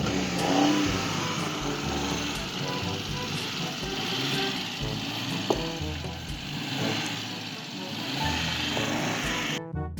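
A car engine runs and revs after starting, with the battery and self-starter working, as a continuous rough rumble that swells slightly, under faint background voices.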